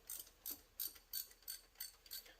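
Ratchet wrench clicking as it runs bolts down on a 1993 GMC Typhoon, a close, crisp series of about seven short ratcheting bursts in a steady rhythm, with no talk.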